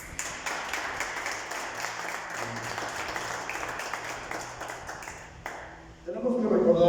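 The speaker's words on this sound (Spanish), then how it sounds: "Vamos a dar un fuerte aplauso a nuestro Señor." A church congregation applauds with steady, moderately loud clapping for several seconds while a voice speaks over it, before the applause fades out and speech takes over at the end.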